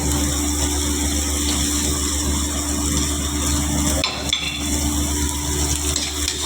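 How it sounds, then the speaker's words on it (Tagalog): Garlic frying in a pan gives a steady close sizzle with stirring and scraping, broken by a brief clatter partway through. "So, lalagyan na natin. Ito natin yung bawang."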